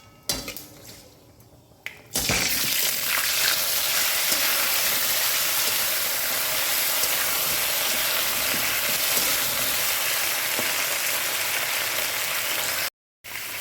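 Whole dried chilli and a bay leaf sizzle in hot oil, then raw mango pieces drop in with a sudden loud burst of frying that settles into a steady, dense hiss, with occasional utensil clinks.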